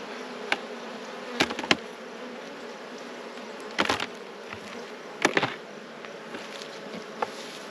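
Honeybees buzz in a steady hum around an open production hive, with a few close bees passing by the microphone and soft knocks and handling noises now and then.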